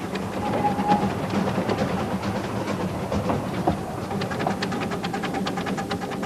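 A half-ton miniature steam locomotive chuffs along with rhythmic puffs and rattling wheels, steady and fairly close, with a faint hiss underneath.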